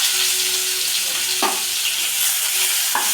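Chopped onions frying in hot spices for chicken masala, giving a loud, dense, continuous sizzle close up, with a couple of brief spatula scrapes and no voices.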